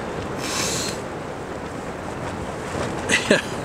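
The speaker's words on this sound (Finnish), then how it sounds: "Nyt mä sitten tässä olen, kun tuuli on yltynyt sillä lailla niin kuin ennustettiinkin." Strong wind buffets a boat, a loud, steady rushing roar with gusts swelling and easing, and a voice briefly talking near the end.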